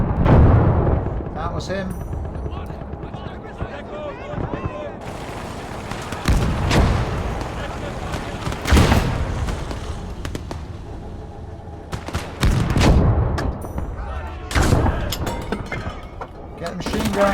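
Enemy artillery gun firing in the war game Kampfgruppe, heavy booms and blasts recurring every few seconds amid battle noise, with someone talking over the gunfire.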